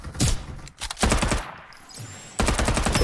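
Automatic weapon fire in the online shooter Farlight 84 comes in rapid bursts, loud and close, separated by short quieter gaps, with no talking over it.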